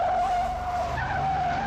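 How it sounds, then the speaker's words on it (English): Car tyres skid loudly in a movie chase scene, a sustained squealing screech that holds steady with a slight rise in pitch, heard alone and up close. "I think this is the same car that he was running from before, and they are driving around just as recklessly."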